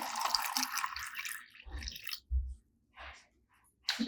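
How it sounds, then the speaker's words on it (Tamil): Cooled boiled salt-and-vinegar water poured over vegetables for pickling, a close trickling splash at first, then scattered drips and small sloshes separated by short silences. "இதை நான் தண்ணியை ஆற வச்சு தான் ஊற்றுறேன்."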